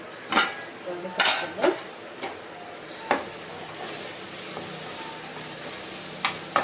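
A lid is set on a pot of gongura mutton with ginger; a few sharp metallic clanks and knocks ring out close by, spaced unevenly over a quiet kitchen background.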